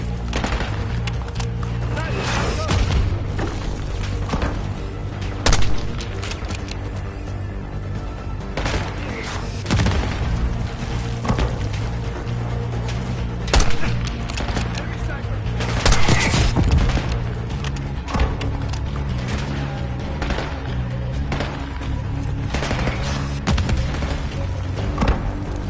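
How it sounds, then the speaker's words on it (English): Mortar explosions and heavy gunfire in the shooter game Call of Duty: Black Ops 6: repeated loud booms and thuds over a dense, continuous battle din, with voices calling out in between. "Mortar, take cover! Case, target the mortars!"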